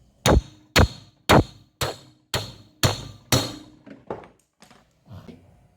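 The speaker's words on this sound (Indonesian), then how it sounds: "Kita pakai palu aja." A hammer strikes a refrigerator compressor seven times in a steady rhythm, each hit a sharp metallic knock, followed by several fainter taps and light clatter.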